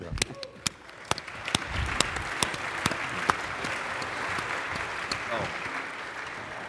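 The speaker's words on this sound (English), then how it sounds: "let me applaud all of you" Audience applause at a fraternity centennial gathering, a steady wash of many hands with distinct individual claps standing out, fairly distant, with some voices mixed in.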